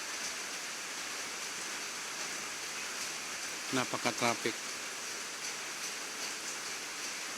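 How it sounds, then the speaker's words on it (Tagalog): Steady afternoon rain in the Philippines hisses as a constant broadband wash, with a brief burst of a man's speech in the middle. "Grabe ang halos maghapon ang ulan."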